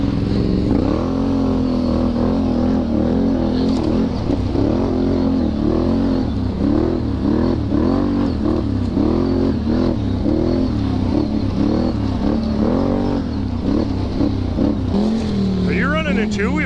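ATV engines ripping through woodland trails, a Can-Am Renegade 1000 XXC and Polaris Scrambler XP, revving and accelerating loudly and continuously close by with wheels spinning, with people talking over the motor noise.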